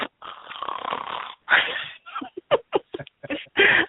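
A person on a phone line imitates a snore with one long drawn-out rasping breath. Shorter snorts and breathy bursts follow, loud and close, with a muffled telephone quality.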